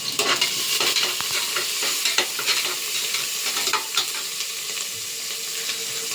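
Onions and curry leaves fry and sizzle in hot oil for a Tamil goat-head curry, with steady broadband crackle and repeated scraping stirs of a spoon against the pan, close and fairly loud, no talking.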